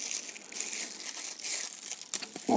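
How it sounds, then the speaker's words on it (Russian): Cellophane plastic bag crinkles and rustles close up as a piece is torn off, a continuous crisp crackling with a sharper snap near the end. "Я делаю обычный целлофановый пакет. Кусочек отрываете пакета."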